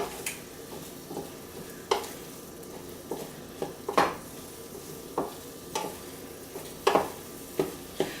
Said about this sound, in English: So about that much cinnamon goes in there. And then I'm going to stir that in.